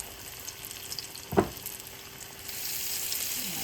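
Onion fritter batter dropped into hot frying oil gives a sudden sharp splash, then a fizzing sizzle that builds and holds steady, heard close up without speech.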